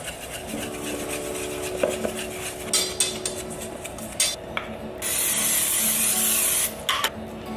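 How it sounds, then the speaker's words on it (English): Breakfast batter with almond and Himalayan pink salt is whisked in a bowl with light clinking and scraping strokes, followed by a long steady hiss of oil spray. "then we're gonna whisk this"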